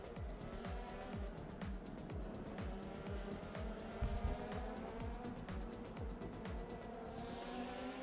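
A racing car in the video game Assetto Corsa revs hard through gear changes, its engine note climbing and dropping in repeated sweeps, with tire squeal near the end; a voice is faintly present in the background.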